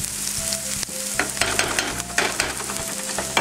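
Onion and garlic frying in oil in a pan: a steady, close sizzle with crackling spits, occasional stirring scrapes and a faint higher tone running underneath, no talk.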